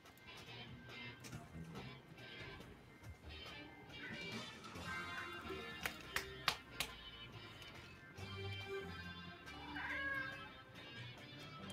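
An indoor cat wanting to go outside in below-zero weather meows and yowls repeatedly, faint and somewhat distant, mixed with sharp taps and background noise.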